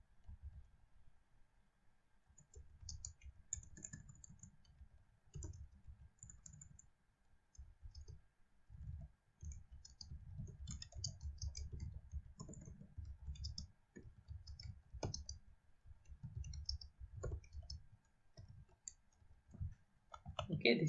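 Someone types a paper title on a computer keyboard, producing bursts of quiet, close key clicks with short pauses between words and runs of keystrokes.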